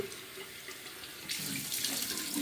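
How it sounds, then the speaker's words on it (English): Warm water runs from a bathroom sink tap, a steady hiss that swells louder midway as hands splash water onto the face, close and continuous with no talking. "I still splash my face with warm water to soften the skin"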